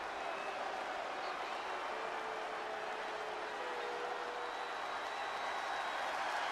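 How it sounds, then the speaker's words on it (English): Steady crowd noise and applause in WWE 2K20 for Kevin Nash's tag team entrance on Raw Is War, a dense continuous roar with no breaks. "Clap for your tag champs and feel the power!"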